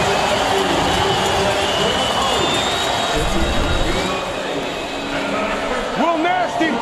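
Stadium crowd at a CFL football game between the Montreal Alouettes and Ottawa RedBlacks, a broad, loud roar of cheering sustained throughout, with a commentator's voice briefly cutting in near the end.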